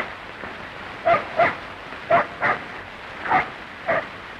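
A dog barks in short paired bursts, six sharp yaps in uneven groups, moderately close with a faint steady background hiss and no talking.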